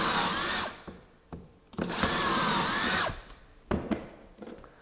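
A power drill whines through wood in two loud bursts while drilling pocket holes for trim carpentry, each a couple of seconds long, separated by clicks and knocks as the bit is repositioned.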